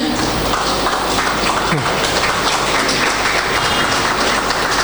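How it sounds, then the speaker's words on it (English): A church congregation at a Sunday morning service claps for first-time visitors, a loud, dense and continuous patter of many hands filling the whole moment. "let's all clap for them"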